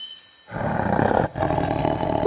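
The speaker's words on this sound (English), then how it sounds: "It's a tiger!" A tiger roars in a children's nursery-rhyme song, a loud sustained growling roar that starts after a half-second of near silence, breaks briefly, then resumes and swells toward the end.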